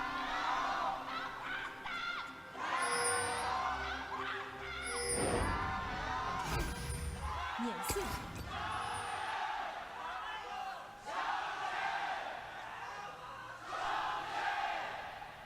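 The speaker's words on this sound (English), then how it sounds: "They're still there, still cheering as loud as they possibly can" Arena crowd of esports fans at a 2018 LPL Summer Split League of Legends match between FunPlus Phoenix and Snake Esports, cheering and roaring loudly in sustained waves with chants and whoops, under a caster's voice.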